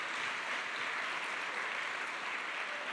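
Steady applause from a panel audience fills the room, a dense, even patter of clapping that holds at moderate level throughout without talk over it.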